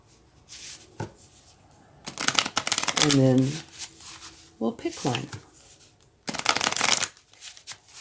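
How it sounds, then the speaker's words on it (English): Tarot cards being shuffled in several loud riffling bursts, with a person talking between and over the shuffles. "let's gather these up, give them a shuffle"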